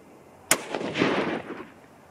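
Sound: 243 Winchester rifle shots at target

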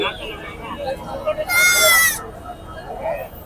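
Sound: rams bleating at a livestock market

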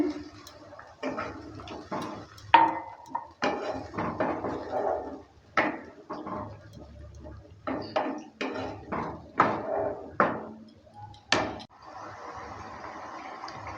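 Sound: stirring rohu fish curry with added warm water in pan

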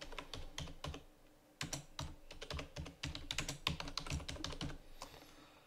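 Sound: typing on a computer keyboard

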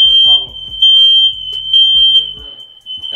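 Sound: fire alarm set off by fog machine

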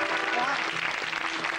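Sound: audience applause

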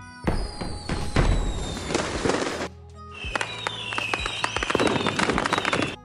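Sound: fireworks sound effect

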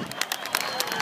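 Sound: audience applause for the singer

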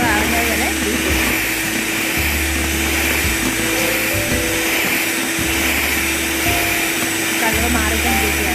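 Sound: electric beater whipping marshmallow mixture

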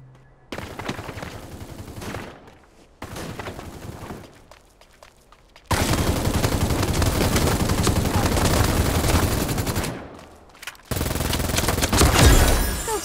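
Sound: gunfire in Super Mecha Champions video game

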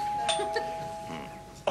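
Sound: doorbell ringing

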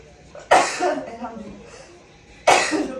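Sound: sneeze

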